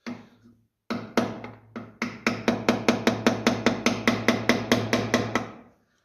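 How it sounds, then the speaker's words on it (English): A hammer taps on a part of the rear end of a 1955 Ferguson 20 TED TVO tractor: a few uneven strikes, a short pause, then a fast, steady run of about a dozen sharp metallic taps, close and clear. "a little tap of a hammer and a bit of pressure"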